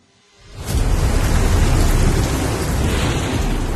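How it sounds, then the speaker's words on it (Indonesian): A heavy rainstorm in Cisarua, West Bandung, West Java, swelling in after a short quiet start into a loud, dense roar of pounding rain that persists steadily throughout. "Hujan badai turun tanpa henti di Cisarua, Bandung Barat, Jawa Barat."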